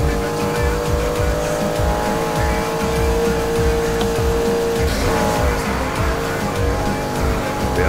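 A Porsche 718 Cayman GTS races in Need for Speed Heat with nitro, its engine roaring loudly and continuously with tire squeal, a sustained high-revving drone throughout.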